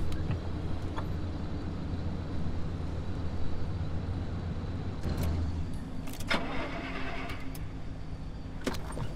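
A car idling steadily in the driving game Pacific Drive, a low continuous engine rumble with a few brief mechanical clicks and clanks partway through, close and alone.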